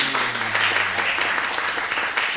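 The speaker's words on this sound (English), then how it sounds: "Actors really love applause." Steady applause from a theater audience, dense clapping sustained throughout at a fairly loud level.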